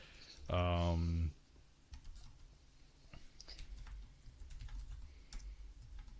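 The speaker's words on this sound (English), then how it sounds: "You type so loud." Loud, rapid clatter of computer keyboard typing in a short burst near the mic, followed by softer scattered key taps and room noise.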